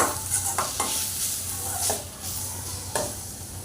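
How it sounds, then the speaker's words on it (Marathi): Finely chopped tomato sautés in a pan for stuffed brinjal masala, a soft continuous sizzle broken by several brisk spoon-stirring scrapes, close and without speech. "आता टॅमॅटो टाकूया आपण एक बारीक चिरून चांगला नरम होईपर्यंत परतून घेऊया"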